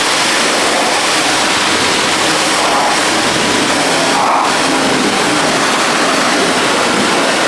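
Water sprays in a steady, loud hiss as a hose rinses the engine bay of an OBS Chevy pickup with an LS engine swap, the wash noise continuous and close for the whole stretch.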